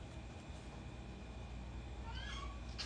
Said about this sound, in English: Trying to show Peaches on camera because she's always whining.